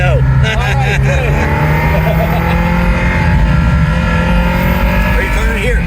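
Ferrari Mondial Spyder engine downshifting into a turn on a road drive, a steady loud drone running throughout with shifting tones while people talk over it.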